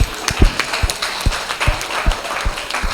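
A church congregation claps in thanks to God. The claps are loose, uneven and moderately close, with scattered individual hits rather than a full roar of applause.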